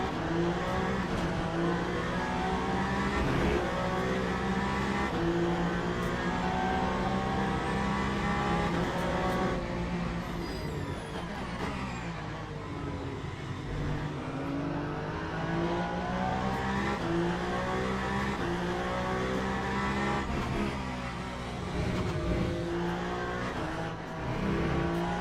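A Ferrari endurance race car in a Le Mans Ultimate race at Bahrain screams through its gears, a loud, continuous high-revving engine with rising and falling pitch sweeps from upshifts and braking, other cars audible alongside.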